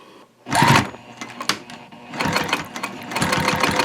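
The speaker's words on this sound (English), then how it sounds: "I'm going to start my top stitching" A sewing machine top stitching a tote bag at a 3.5 stitch length, with a short back stitch: close, buzzing whir in starts and bursts, running in a steady rattling stretch by the end.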